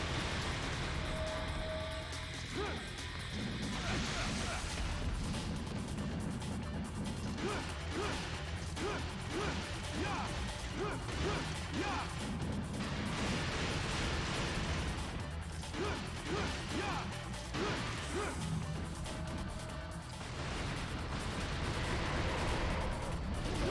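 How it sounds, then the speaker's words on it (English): Dante's guns firing in Devil May Cry 2 during a fight, a loud, dense stream of rapid pops and impacts woven into constant game music and effects. "that doesn't stop me from launching him with the guns"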